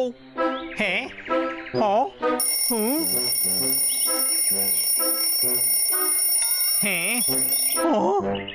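An alarm clock rings loudly with a steady high electronic tone, sounding on and off under animated voices speaking Tamil, with a comic cartoon feel.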